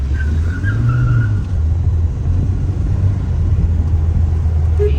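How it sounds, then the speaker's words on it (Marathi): A car engine drones steadily close by with a low rumble, swelling slightly in pitch as if revving; no one speaks. "कचकिनी गाडीचा आवाज आम्ही काढलेला आहे."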